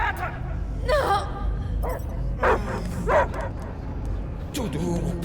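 A dog in Marvel's Guardians of the Galaxy video game gives several separate barks and yips over a low background, with game voices speaking between them.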